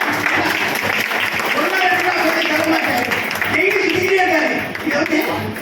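Audience applause at a Chennai Nagarathar association event, a sustained, fairly loud wash of clapping from a crowd that runs the whole stretch, with a speaker's voice carrying through over it.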